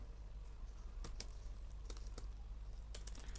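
Computer keyboard keys pressed while working in Microsoft Word, including a Shift+F9 shortcut; a few sparse, quiet clicks and taps over a steady low hum, with no talking.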